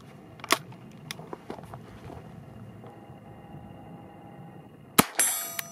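A single .22 long rifle shot fired from an adapter in a survival shotgun at an outdoor range, a sharp crack late in the clip with a brief ringing tail, preceded by faint clicks and handling noise.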